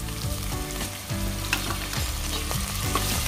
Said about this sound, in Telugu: ఇవి కొంచెం ఫ్రై అయిన తర్వాత ఉల్లిపాయ, అలాగే పచ్చిమిర్చి వేసుకుని ఫ్రై చేసుకుందామండి